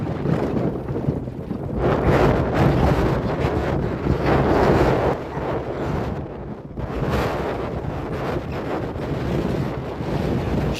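Strong wind roars and buffets the microphone in heavy, continuous gusts at the Luderitz Speed Challenge, with a brief lull midway before the rumbling rush picks up again.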